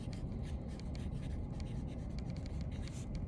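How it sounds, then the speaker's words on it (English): Pen or pencil writing notes by hand during a chemistry lesson on the periodic table, with steady, close scratchy strokes in quick bursts and no talking. "I'm gonna write that down while y'all are sitting there writing it too."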